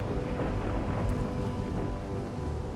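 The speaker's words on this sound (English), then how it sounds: "Sailing in a storm in that ship." A storm at sea in Anno 117, with thunder rumbling low and steady under wind and rain while a ship sails, all one continuous dense roar with no voices.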